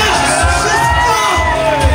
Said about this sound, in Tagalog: Palakpak at sigawan!